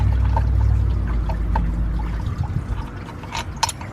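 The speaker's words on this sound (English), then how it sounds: "Make sure you have your catch can underneath, because it's going to start pouring." Coolant drains out of a Mazda RX-8 engine into a catch can during a water pump replacement. A steady, close pour and trickle runs throughout, with a low engine hum under the first half.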